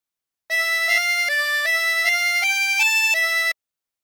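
A 16-hole tremolo harmonica plays a phrase of God Rest Ye Merry Gentlemen as about eight smooth, connected reedy notes stepping up and down. The sound is steady, close and alone, and it stops cleanly after three seconds.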